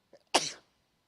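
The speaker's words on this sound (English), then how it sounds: "I'm going to sneeze." A person sneezes once during a Shabbat morning service: a single sharp, close burst after a faint intake of breath, with no talking around it.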